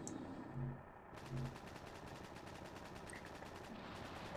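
Blaster weapon fire in the video game Battle Engine Aquila, amid a battle against tanks: a steady stream of rapid, dense shots running the whole time over a rumbling background, with two brief heavier low thumps early on.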